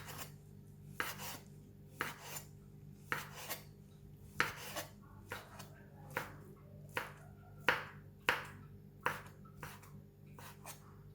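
A knife slicing a fried egg omelette into very thin strips for egg fried rice, about fourteen crisp, evenly spaced cuts against a board, close and quiet with no talk.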